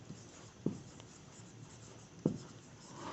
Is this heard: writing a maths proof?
yes